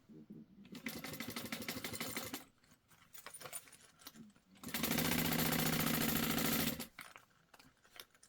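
A sewing machine stitches around a Rosie sling in two bursts, a shorter run followed by a louder, steadier one after a pause, with faint handling clicks between them.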